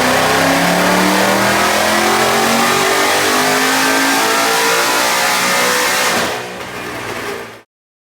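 A 2018 Mustang V8 with a Whipple supercharger roars through a dyno pull, its pitch climbing steadily under full load, very loud and close, before the revs drop and it cuts off abruptly.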